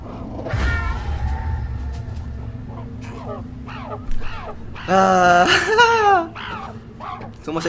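A cat in the horror game Zoonomaly gives a drawn-out, wavering meow with a shorter cry before it, over a low ambient hum and a few faint voice sounds.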